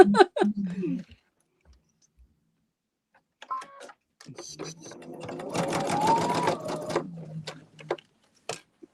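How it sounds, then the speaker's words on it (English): A sewing machine stitches a quilt seam in a steady rapid mechanical chatter lasting a few seconds, close by, after a brief stretch of quiet clicks and handling, with a voice heard speaking at the start. "I'm going to sew a seam"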